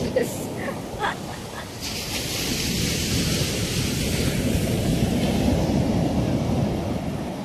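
Surf and wind on Dinadiawan beach in drizzly weather, a steady broadband wash of waves with gusting wind noise on the microphone, loud and continuous throughout with no break.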